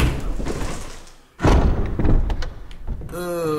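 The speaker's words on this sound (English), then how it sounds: "Open the door." A door opens in Resident Evil Remastered: a heavy, close thud after a brief lull, with a rumbling sweep afterwards and a tonal game sound near the end.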